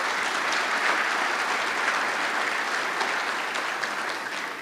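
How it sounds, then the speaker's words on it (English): An audience gives a round of applause at a community redesign presentation about a new waterfront development, producing dense, even clapping that holds steady for several seconds with no talking. "Round of applause."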